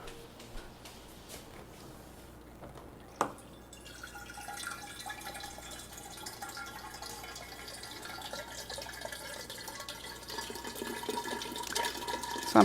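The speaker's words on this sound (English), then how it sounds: "So I'm pouring some filtered water." Filtered water pouring into a cooking pot, a steady watery stream that builds gradually after a brief clatter, growing louder toward the end.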